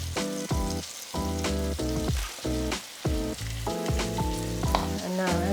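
Egg and rice frying in a wok for Thai fried rice, a hissing sizzle running beneath prominent rhythmic music with stop-start chords.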